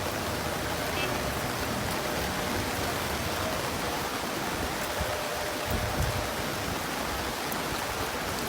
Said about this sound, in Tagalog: Grabing baha talaga oh.